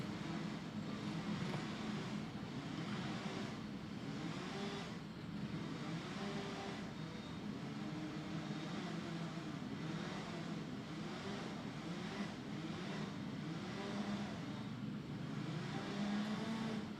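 Racing kart engines on the grid at Rye House kart club, a steady buzzing drone of many small engines idling and revving together at a moderate distance, continuing throughout with no voices.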